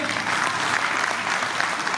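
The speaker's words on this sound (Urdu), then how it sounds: "اپنی تالیاں کو بجا لیں" An audience claps at an Urdu poetry mushaira evening in Yorkshire, a steady, dense round of applause that holds at an even level for the whole stretch.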